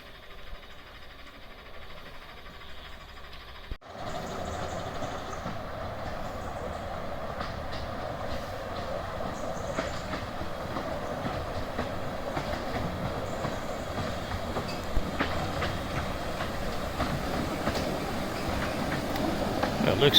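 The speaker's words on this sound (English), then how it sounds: "And the train approaches." Miniature railway train at Rudyard Lake approaching the Dam station, a steady rumbling roll of carriages growing slowly louder and nearer, with no talk over it.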